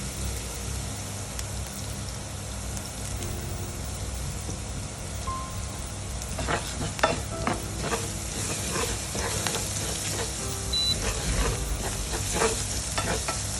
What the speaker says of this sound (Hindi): एक मिनट तक इसे चलाएंगे